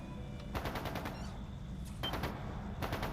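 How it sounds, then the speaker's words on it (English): Bursts of rapid video game gunfire crackle in three separate volleys, like automatic weapons firing at a distance, with a low rumble underneath. "It's gunfire."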